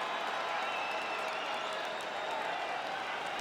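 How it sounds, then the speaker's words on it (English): A video game arena crowd in UFC 5 applauds after a round, a dense, steady wash of clapping and cheering held at a constant level throughout. "So the crowd voicing its appreciation after that round."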